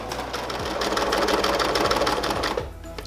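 Sewing machine stitching a scalloped quilt binding edge at a short stitch length, a steady close whirring hum with brief pauses and restarts through the run.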